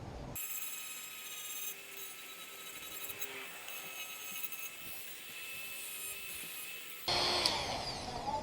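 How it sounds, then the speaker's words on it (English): Drum sander deburring a cut exhaust pipe on a RAM 1500, a thin, steady high-pitched whine with constant tonal grinding at moderate distance, rising louder near the end. "I'll get my drum sander and go ahead and deburr this part a little bit"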